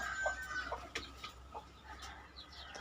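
Breeder turkey hens clucking nearby on a farm, a scatter of short calls and clucks at an uneven pace, moderately quiet over faint background hum.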